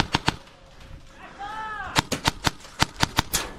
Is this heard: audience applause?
no